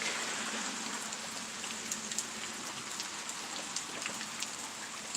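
Steady rain from a spring storm in Kansas falls with a constant hiss, scattered drops tapping on nearby surfaces, fairly soft and continuous throughout.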